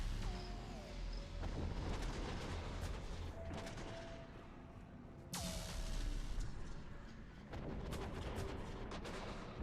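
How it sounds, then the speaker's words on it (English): Random explosions erupt across a ship in the video game Mass Effect 3, a series of booming blasts and crackling bursts layered over a steady rumbling game soundtrack. "It just has some explosions on it randomly."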